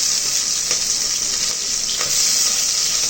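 Onions and curry leaves sizzle steadily in hot oil with mustard seeds for a ground-masala chicken curry, a continuous close crackle with faint stirring clicks and no talking.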